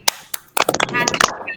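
A primary school class in Indonesia claps a rhythmic 'tepuk semangat' chant together, sharp close hand claps in quick irregular bursts mixed with children's voices.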